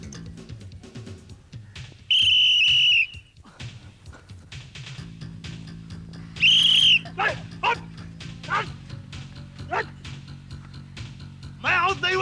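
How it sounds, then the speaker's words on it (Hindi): Someone blows a whistle during a game: two shrill, steady blasts, each about a second long, ring out loudly among people talking and other background noise. "मैं आउट नहीं हुआ, तूने सीटी क्यों बजाई?"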